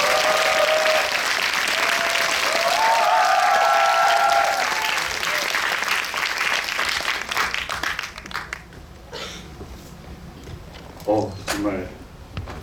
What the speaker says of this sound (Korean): 정말 스타가 들어오는 어마어마한 박수 소리가 들렸습니다